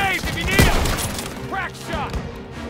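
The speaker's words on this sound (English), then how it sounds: "Suppressive fire! Keep firing!" Rapid gunfire from the World War II video game Call of Duty WWII crackles in dense bursts, with a sharp close shot amid continuous battle noise, and voices shout over the firing.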